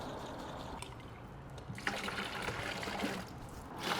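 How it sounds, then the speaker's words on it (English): Water trickles and splashes as it is poured into an emptied plastic bottle to rinse it out while brining a holiday turkey, a steady close-up liquid wash with soft gurgles, no talking. "we're going to take some of our water for our diluting and rinse that bottle out"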